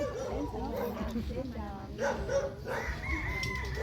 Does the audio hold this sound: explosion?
no